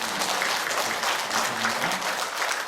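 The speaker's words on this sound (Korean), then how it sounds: "증정 때 우리 박수로 축하해 주시면" A church congregation at a Sunday worship service applauds steadily and loudly throughout, a dense, continuous wash of clapping from many hands.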